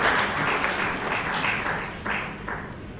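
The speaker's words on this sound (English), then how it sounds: "Please a round of applause for that explanation." Audience applause at a business conference in Lagos, a steady broadband patter of many hands clapping that swells briefly near the end, moderately loud and without talk.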